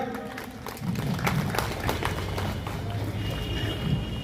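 An audience claps at a health fair at Burdwan Town Hall grounds. Steady, dense applause comes from a crowd at moderate distance, with voices mixed in.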